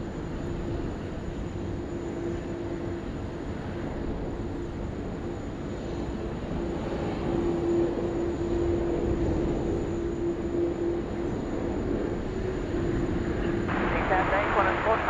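A Malaysia Airlines jet in Tiger livery departs Sydney Airport, its engine roar a steady broadband rumble that swells gradually through the middle and end, carrying a faint tonal whine, with no voices heard.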